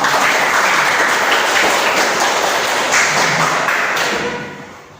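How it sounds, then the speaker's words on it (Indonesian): Classroom applause from a group of students, a dense, steady wash of many hands clapping that fades out near the end, with no talking over it. "Tepuk tangan."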